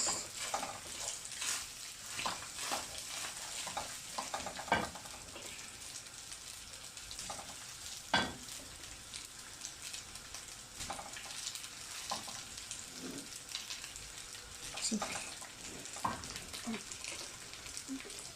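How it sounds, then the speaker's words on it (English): Rice frying in a pan, a steady crackling sizzle with frequent scraping stirs and occasional spatula knocks, close and fairly quiet, with no voices. "Maybe I'm going to fry it 3 times."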